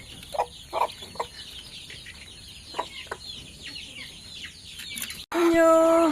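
Young chicks peck at starter feed and make soft, scattered clucks and chirps that repeat irregularly at close range, followed at the end by a louder, sustained burst.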